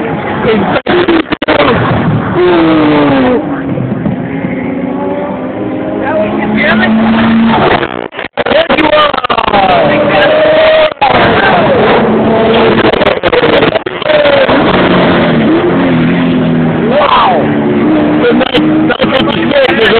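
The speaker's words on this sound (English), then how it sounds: "It's the Mazda seven eight seven right there." A Mazda 787 race car roars past with its engine pitch rising and falling, loud and continuous under steady excited commentary.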